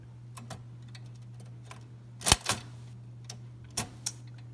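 A 1953 Quiet De Luxe manual typewriter with a new ribbon is typed on in a few scattered, sparse key strikes over a low steady hum, with two sharper clacks standing out.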